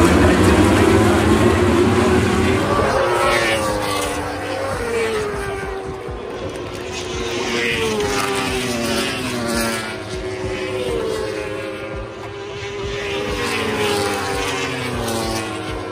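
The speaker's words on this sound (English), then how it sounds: "something that truly cannot be replicated is the sound of those motorcycles" Several high-revving World Superbike racing motorcycles drone and whine past at once at Donington Park, their pitch sweeping up and down in a loud, continuous roar.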